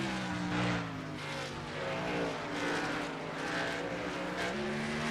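Race cars roar around Kalamazoo Speedway during a WRLA NOS Energy Cup Series heat, with loud, layered engine drones rising and falling as the pack passes close by.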